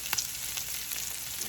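Salmon sears in a hot pan with a steady, close sizzle and a few brief crackles and spits rising above the constant frying hiss.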